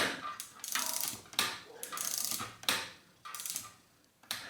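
Bolt on the brake lever of a vintage Trek 412 bicycle being tightened with a ratchet tool, in several quick clicking bursts separated by short pauses, close and fairly quiet.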